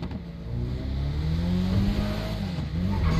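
Volkswagen Golf in the GTA 5 video game pulling away from a start, its engine note rising steadily and staying loud and close throughout, with no talk over it.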